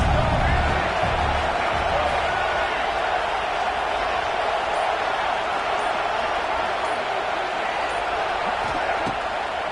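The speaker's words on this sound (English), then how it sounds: "This crowd trying to make life miserable for this offense." Dense, steady roar of a football stadium crowd during a game, loud and unbroken throughout with a commentator's voice faintly under it.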